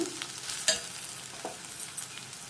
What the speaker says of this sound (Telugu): పచ్చి వాసన పోయే వరకు ఫ్రై చేసుకోండి